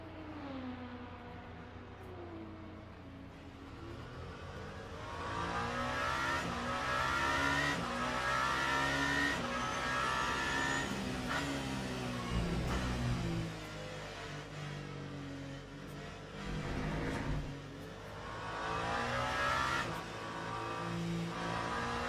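A race car engine in a racing video game at Imola revs and climbs through the gears, sounding off for the gear it is in, loud and continuous with repeated rising sweeps and brief lifts, no talk.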